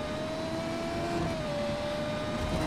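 A Mugello Farina Duo F1 car in Just Cause 3 drives down a city road, its engine holding a loud, steady high-pitched whine with a slight pitch shift partway through, continuous and alone.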